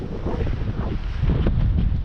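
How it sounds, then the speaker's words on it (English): Strong wind on a frozen lake during an ice fishing outing, a loud continuous buffeting roar that batters the microphone throughout, with no talk. "It is insanely windy, guys."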